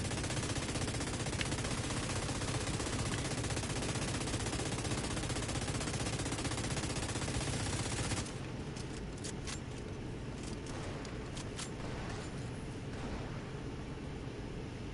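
Steady, relentless fire from an enemy sniper turret in The Division 2, a harsh continuous roar for several seconds, then quieter scattered cracking shots and rattles.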